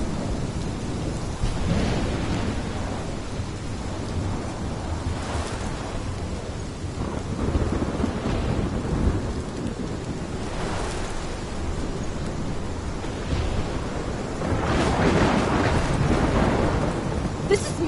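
Thunderstorm in the Life Is Strange video game: steady heavy rain with repeated rolling thunder cracks and rumbles swelling throughout, loud and continuous, with faint voices now and then.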